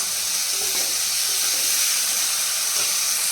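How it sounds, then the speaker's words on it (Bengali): Spice paste frying with fried potatoes in a pan, a steady close hissing sizzle with faint stirring touches running evenly throughout. "এই যে মশলাটা কষাচ্ছি মাছের আলু ভাজা হয়ে গেছে তার মধ্যে মশলাটা দিয়ে দিলাম"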